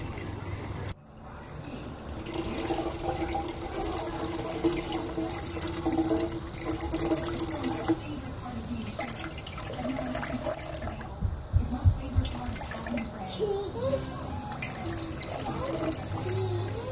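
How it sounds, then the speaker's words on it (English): Pulp is squeezed by hand through a strainer to press out coconut milk, and liquid trickles and splashes steadily into a container, close and continuous for the whole stretch. "I'm just going to give it a good squeeze to get all the pulp out."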